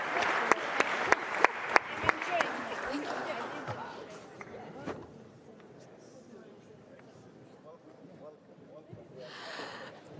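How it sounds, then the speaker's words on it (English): An audience at a closing forum session applauds the panelists, with sharp, distinct claps at first that thin into a diffuse spatter. Talk and room noise follow, and a short burst of cheering or clapping comes near the end. "could we have another applause for our panelists?"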